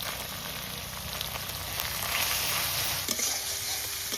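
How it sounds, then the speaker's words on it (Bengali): Spice masala frying in a wok as salt, turmeric and chili powder go in, a dense, steady sizzle close by with faint scraping and stirring, and no speech. "কড়াইয়ের মশলা ভালোভাবে মোটামুটি ভাজা ভাজা হয়ে গেছে, এবার লবণ হলুদ আর লঙ্কার গুঁড়ো দিয়ে দিচ্ছি"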